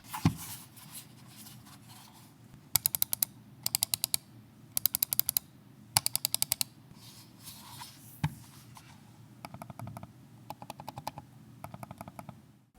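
A Logitech MX Master 3S mouse gives short bursts of rapid, muted clicks, separated by brief pauses, over a faint low room hum.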